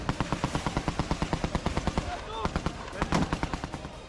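Israeli soldiers advancing in the Gaza Strip fire a rapid, evenly spaced burst of automatic gunfire, then a few scattered shots, all at a moderate distance with some background noise.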